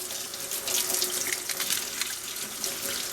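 Water from a tap runs steadily into a sink while a restored Tootsietoys toy truck cab is rinsed off after old paint was stripped from it. The splashing stays close and continuous throughout, with no talking.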